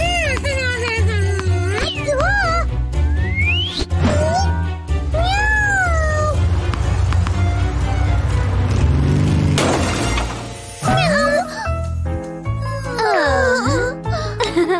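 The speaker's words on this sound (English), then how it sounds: "Meow, meow, meow, meow," A cat meows repeatedly in a children's car-safety song, the rising and falling cries loud and close over music, with singing voices and a brief crash partway through.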